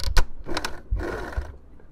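A domestic sewing machine stitching fabric bunting, starting with a brief reverse stitch, gives quick mechanical whirring bursts with a short pause between them, close and fairly quiet.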